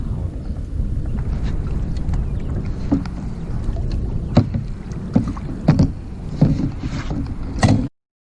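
Paddles work a small fishing boat through water, giving a steady wash of splashing and rustling strokes with a few sharper knocks against the hull near the end.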